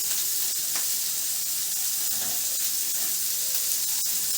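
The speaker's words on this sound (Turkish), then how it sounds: "Ekmeklerimi için şimdi kızartıyorum." Burger buns fry in melted butter in a pan with a steady, dense sizzle and hiss. The sound is close and continuous, with occasional faint clicks and no talking.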